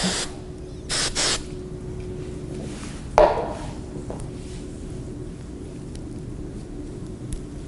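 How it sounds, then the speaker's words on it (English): Two short hissing bursts of aerosol spray near the start, then quiet with a single sharp click and faint rustling. "spray this before it opens up."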